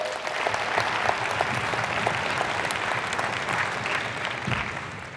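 An audience at a digital summit talk claps continuously, a dense steady wash of applause holding at the same level throughout.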